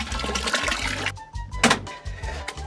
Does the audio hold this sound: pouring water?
yes